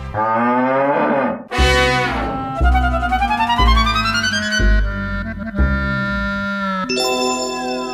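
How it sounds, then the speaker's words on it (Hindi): Long, loud, bending moos carry a sequence of drawn-out lowing calls, close and clear, with a faint jingle near the end and no talk. "जरा रंभा के दिखाओ"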